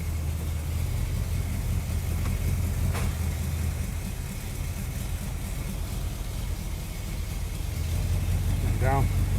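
Ford vehicle with a leaking transmission, engine idling steadily and close by as it is dropped through the gears, with a low constant rumble, broad background noise and a brief rising whine near the end.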